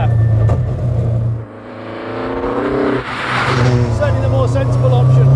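A Millington Diamond 2.7 engine in an MST restomod roars loudly, revving up and dropping back, then climbing again, close and continuous with a voice over it.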